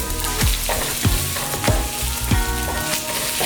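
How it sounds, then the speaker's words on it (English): Carnitas meat fries in a pan until crispy, with a loud, close crackling sizzle broken by regular scraping stirs roughly every half second. "And then I'm gonna add the meat into the pan as well, right? And then we're gonna cook it until it's crispy or caramelized."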